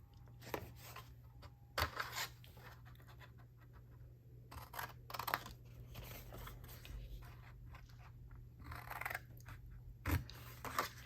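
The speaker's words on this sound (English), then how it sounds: "then I'm going to cut out these 2 bottom squares" Scissors snip out paper template squares for a small triangle box, with scattered crisp cuts and paper rustles at close range, quiet and without talking.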